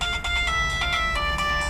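A phone ringtone plays loudly and steadily, a bright repeating electronic melody with no one talking over it.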